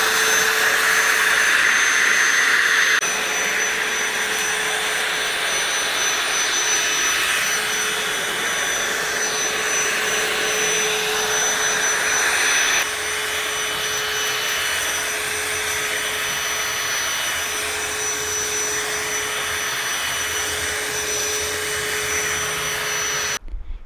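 A DeWalt DVC501HB cordless dry hand vacuum runs steadily for a long stretch, a loud, close, high-pitched motor whine with a constant airflow roar and slight changes in tone, with no speech.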